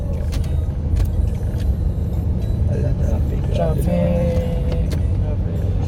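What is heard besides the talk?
road traffic on the Skyway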